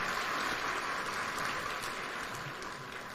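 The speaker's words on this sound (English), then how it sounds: "One more round of applause for His Excellency, the President." At an official opening event in Nairobi, a large audience gives a sustained round of applause for the President, an even wash of clapping heard from a distance that tapers slightly at the end.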